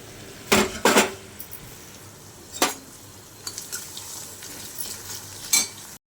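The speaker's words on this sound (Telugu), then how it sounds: "యాడ్ చేసుకున్న తర్వాత ఆనియన్స్ లైట్ బ్రౌన్ కలర్ వచ్చే వరకు వేయించుకుందాం" Onions and curry leaves fry in a pan for chicken curry, a soft sizzle under sharp, intermittent clatters of a spoon stirring against the metal. No one speaks.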